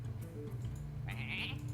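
A sheep bleats in the Hearthstone card game, a short nasal cry over a low steady background hum, fairly quiet.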